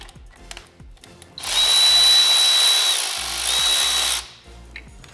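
A power tool whirs on a BMW F10 with an N55 engine to remove bolts during engine removal, one continuous close, loud burst of about three seconds after quiet clinks.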